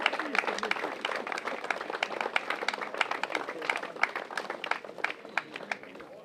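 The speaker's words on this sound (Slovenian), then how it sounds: "Lahko še en aplavz, spodbudo novi vinski kraljici" Crowd applause for a newly crowned wine queen at a wine-region event in Ormož, steady dense clapping sustained throughout at moderate distance.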